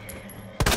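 Two quick, sharp gunshot bursts ring out near the end of a short stretch of low game ambience in Resident Evil 2, with no talk.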